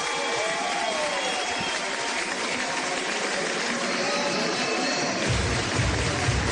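A baseball crowd at a 2011 minor-league playoff game in Eugene cheers on the home Emeralds with a steady, loud wash of noise and clapping that rolls on unbroken.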